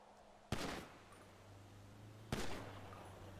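Two sharp gunshots in a roleplay video game, spaced about two seconds apart, each a sudden loud crack followed by a short rumbling tail over a low steady hum.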